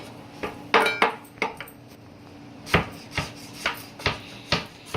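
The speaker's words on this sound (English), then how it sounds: "Alrighty, so I'm just going to chop up my garlic." Garlic being chopped with a knife on a rubber-footed cutting board, a series of sharp, close knocks coming irregularly, roughly ten strikes, alone without talk.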